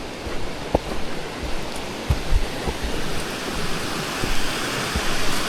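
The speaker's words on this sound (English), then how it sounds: "creek crossing coming up here." Trail creek crossing in northern British Columbia at high spring water, with a steady broadband rush of flowing water, continuous and close, with a few faint clicks and footstep-like knocks over it.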